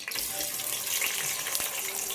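Cinnamon, cloves and cardamom frying in hot oil give a steady, close sizzle, a bright continuous crackling hiss with faint pops scattered through it.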